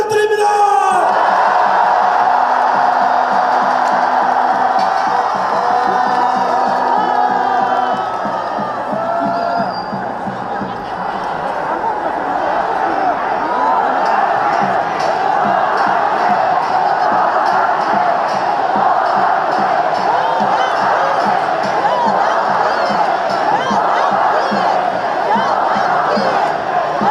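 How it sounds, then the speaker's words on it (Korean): Large crowd at an outdoor political rally on Geumnam-ro in Gwangju cheering, shouting and roaring continuously and loudly, with a voice over a loudspeaker at the start, a dense sustained wall of crowd noise. "함성"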